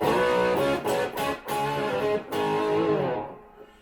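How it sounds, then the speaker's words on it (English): Electric guitar played through a Strymon Riverside pedal set to a mild, bluesy distortion, sustained chords ringing with brief gaps before fading out at the end, alone with no talking. "So that's my mild distortion, bluesy"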